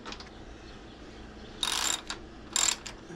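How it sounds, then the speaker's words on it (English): A socket wrench ratchet set to 7/16 tightens a screw on a garage door track, giving two short bursts of rapid clicking a second apart with a couple of fainter ticks between, close and alone. "I can tighten this particular screw because that plate holds against the channel"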